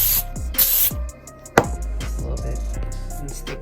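Short hissing bursts of aerosol cooking spray onto a pie pan, a couple of quick sprays followed by a sharper one, with faint kitchen handling noises around them.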